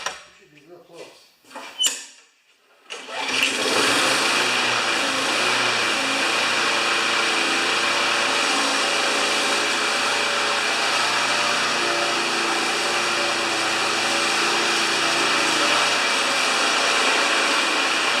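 A Briggs & Stratton 4HP small engine runs steadily after a throttle adjustment, holding a constant loud drone once a few brief clunks and handling noises at the start give way.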